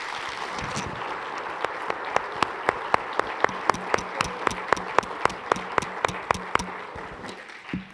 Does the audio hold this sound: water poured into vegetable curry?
no